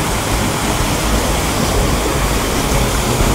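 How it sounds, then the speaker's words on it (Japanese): A waterfall on a mountain stream in Aizu pours with a loud, constant roar of rushing water, close and unbroken, with no talking. "ここの上に滝があるんで"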